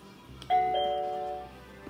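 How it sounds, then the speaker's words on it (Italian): Chime of a Google Nest Hello video doorbell, played indoors from a unit connected in the kitchen: a single clear bright two-tone ding ringing out and slowly fading over about a second, near and fairly loud, with no talking. "E per installare il Nest Hello, che è bellissimo, vi faccio sentire il suono."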